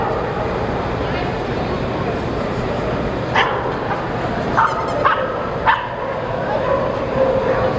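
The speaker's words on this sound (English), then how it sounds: "Here comes Rose. This is our champion puppy." Miniature pinscher dogs bark with a few short, sharp yips at a specialty club dog show in Dallas, heard over a constant indoor crowd hum.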